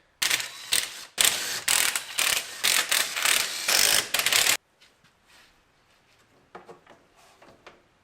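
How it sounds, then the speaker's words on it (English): A ratchet clicks rapidly and loudly for several seconds, loosening the bottom differential cover bolts on a used truck, then fainter scattered clicks and clanks follow. "We're going to first loosen these bottom bolts right here."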